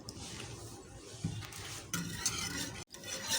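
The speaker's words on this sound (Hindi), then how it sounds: "कॉर्नफ्लोर डाल के मुस्तकिल हम इसमें चमचा चलाते रहेंगे" A spoon keeps moving through a thickening milk and cornflour mixture for doodh dulari in a cooking pot, giving a steady soft scraping and sloshing with a brief break near the end.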